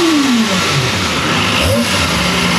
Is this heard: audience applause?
no